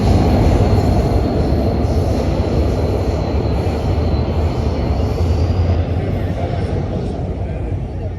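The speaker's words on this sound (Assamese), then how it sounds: "ট্ৰেইনখন আহিছে, সৰু ট্ৰেইন, এডোখৰি আহিছে" A small train rolls in slowly near Bogibeel in Assam, a steady loud rumble of wheels on track with a faint high wheel squeal running through the whole stretch.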